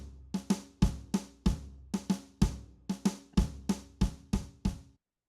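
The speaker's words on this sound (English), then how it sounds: "And now the drum part sounds like this." A solo drum part of kick and snare plays a busy, syncopated pattern of sharp, ringing hits, about a dozen strikes spaced unevenly, close and clear with short decays, then stops abruptly into silence.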